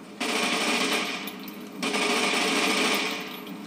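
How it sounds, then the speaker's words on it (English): A 9mm submachine gun fires in the Fallout New Vegas video game, two loud sustained bursts of rapid automatic fire, each lasting over a second, with a short gap between them and no talking. "the next weapon's Vance's 9mm submachine gun"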